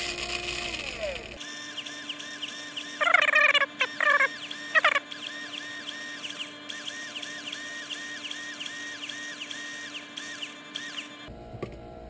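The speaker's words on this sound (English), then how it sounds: "So I'm going to go ahead and drill all these holes out." A small power drill whines steadily with repeating pitch sweeps as it bites in, broken by a few brief scraping bursts, close and fairly loud.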